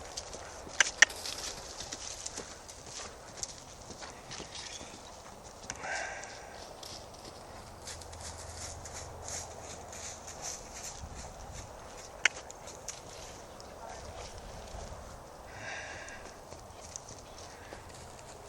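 A thoroughbred horse canters on a lunge circle outdoors, its hoofbeats a steady, moderately near rhythmic clip-clop against light background noise, with occasional sharper hoof strikes and faint birds.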